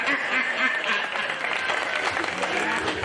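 An audience claps at a Hindi kavi sammelan poetry recital. Dense, steady applause fills the whole stretch, with voices mixed in underneath.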